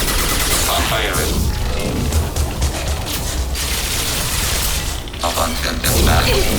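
Mass Effect 2 firefight with bursts of rapid weapon fire and heavy cracks, dense and loud throughout, with a brief lull before firing resumes.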